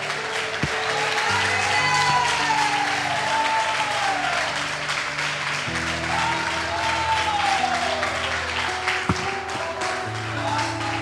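A church congregation claps steadily throughout, sustained applause over a backing of keyboard or organ music with melodic tones beneath.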